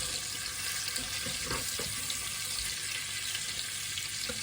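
Salmon fillets fry in a pan with a dense, continuous sizzle close up, with a few soft knocks and scrapes as the pieces are turned, and no voices.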